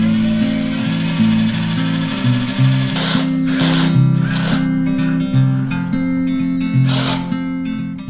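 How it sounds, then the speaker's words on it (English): A power drill whirs in repeated bursts of varying pitch, close by, with sharp clicks and rattles of screws driving into a wooden bar cart frame between runs. "let's get started drilling it all together."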